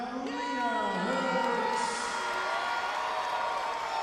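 A crowd at a women's 6A state championship basketball game, Northern Guilford vs. Terry Sanford, cheers and shouts in a continuous roar under a commentator's voice.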